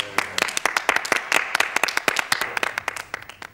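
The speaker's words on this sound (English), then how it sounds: "Everybody bow and give yourself a pirate clap." Children clap along during a 1993 song-and-dance segment, an uneven flurry of close, sharp individual claps that goes on for a few seconds.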